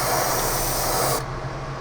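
A Paasche airbrush with a 0.5 mm tip sprays paint at about 30 psi onto a model, giving a loud, steady, close hiss that holds evenly, then drops slightly in brightness as the trigger eases back.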